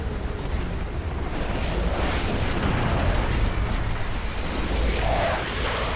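Mounted turret firing in Gears of War 2, a dense continuous roar of heavy blasts and bursting impacts rumbling steadily for several seconds with no pauses.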